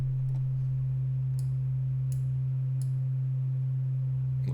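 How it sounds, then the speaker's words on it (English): A simple synthesizer sine wave with the other oscillators switched off holds one steady, pure low tone throughout, with a few faint clicks above it. "Turn the other oscillators off, so we have a simple sine wave."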